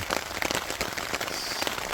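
Heavy rain pours down steadily in the Ganaraska Wilderness, a dense, constant patter of drops hitting a surface with no pauses.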